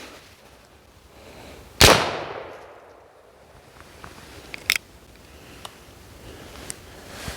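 A Colt 1851 Navy black-powder revolver fires once with a sharp, loud crack that rings out and fades, followed a few seconds later by a fainter click and small mechanical sounds outdoors.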